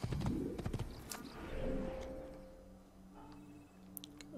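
Horse hooves clip-clopping while riding in Assassin's Creed, faint and uneven with a few whinny-like tonal cries mixed in and soft ambient background, no speech.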